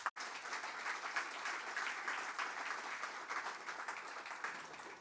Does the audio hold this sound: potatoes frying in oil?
no